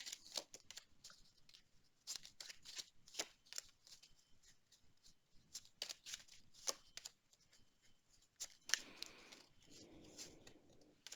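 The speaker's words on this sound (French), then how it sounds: "Alors, je tire les cartes" Tarot cards are shuffled and drawn by hand in a quiet room, producing soft rapid riffling and flicking bursts in an irregular rhythm, close and faint, ending in a brief rustle.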